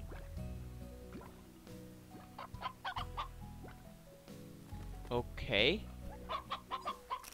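Chickens in the game Slime Rancher cluck and squawk in short bursts amid dripping, squishy slime sounds and game music, with a brief spoken word.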